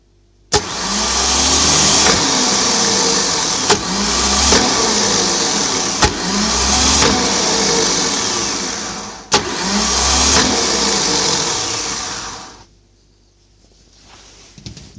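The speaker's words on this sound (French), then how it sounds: "le solénoïde sort et mon moteur tourne" A starter motor running on a test bench whirs loudly in repeated bursts, each beginning with a sharp click of the solenoid, then spins down to silence.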